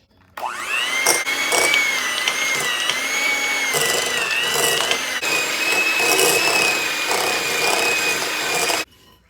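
An electric mixer on medium speed creams a softened 8-ounce block of cream cheese for a no-bake key lime pie, a loud, steady motor whine with a rattling, slightly shifting pitch that starts abruptly and cuts off near the end.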